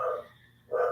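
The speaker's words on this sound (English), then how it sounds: "Excuse my dogs, they're outside playing with my husband." Dogs barking outdoors while playing, two short barks separated by a brief pause, moderately distant and fairly quiet.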